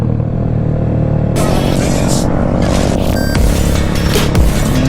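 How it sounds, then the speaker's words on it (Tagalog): Rusi Classic 250 and Yamaha NMAX 180cc motorcycles on a group ride, engines rumbling and revving close by, with wind noise and clattering swelling after a quieter opening second. "Napasabak yung motor ni Bonbon."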